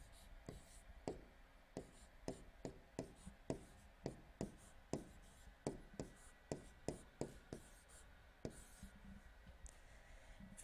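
Numbers written by hand with a pen or pencil on paper, a close series of quick scratchy strokes and taps in an uneven rhythm, quiet and with no talk.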